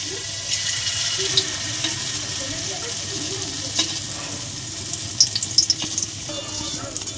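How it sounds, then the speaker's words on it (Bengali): Palm-fruit gujiya dumplings fry in hot ghee, giving a continuous bubbling sizzle with scattered pops and soft clinks of a utensil moving them around, close and fairly loud throughout. "ভেজে নেব গুজিয়াগুলো, ঘিয়ের মধ্যে ভেজে নেব"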